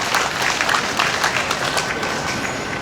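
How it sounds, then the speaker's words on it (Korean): Dense applause from a crowd at a Korean memorial rally for COVID vaccine victims, steady and continuous with bright, crackling clapping throughout. "우리 박웅범 회장님께 다시 한번 뜨거운 박수 부탁드리겠습니다."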